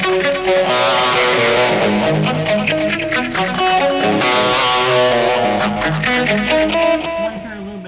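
A 70s-style electric guitar lead played through a BOSS eBand JS with phaser, reverb and tape delay, loud sustained distorted notes swirling with echoes before fading out near the end.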